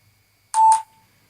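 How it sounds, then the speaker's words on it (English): A single short computer beep used as a cue in a lab button-press experiment, a clean tone lasting about a quarter second in otherwise quiet surroundings, with no talk. "Beep, press the button."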